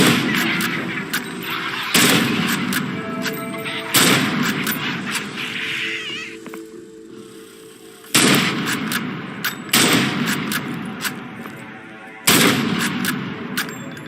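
Gunfire from the video game Insomnia: Breaking Lockdown comes as loud, sharp shots spaced a couple of seconds apart, each with a lingering decaying tail, with a quieter stretch between bursts.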